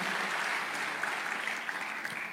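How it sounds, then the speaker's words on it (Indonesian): A church congregation claps together during a sermon on the capable woman, a dense, steady wash of applause lasting a couple of seconds with no voices over it. "Kasih tepuk tangan yang paling meriah buat Allah kita."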